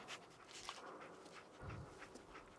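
The dog companion Dogmeat in Fallout 4 sniffs and pants quietly in short, soft bursts over faint in-game ambience and light footsteps, with no speech.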